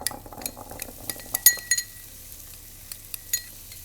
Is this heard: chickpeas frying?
yes